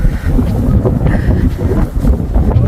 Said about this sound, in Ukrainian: дуже дує, кстати, вітер.